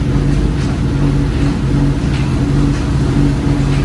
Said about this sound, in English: Downshift. Auto blip still works.